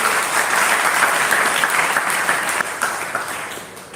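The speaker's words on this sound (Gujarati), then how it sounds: "આપણે જોરદાર તાળીઓથી એમનું સ્વાગત કરીએ" Loud, sustained applause from an audience at a Gujarati poetry gathering in Jasra welcomes a novelist, dense clapping filling the hall for several seconds before easing slightly toward the end.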